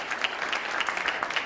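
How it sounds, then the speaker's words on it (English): An audience at a Palestinian American event gives brief, scattered applause for themselves and the kids, a light patter of clapping heard from a distance. "give an applause seriously for yourself and the kids"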